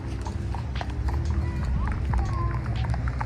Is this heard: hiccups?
no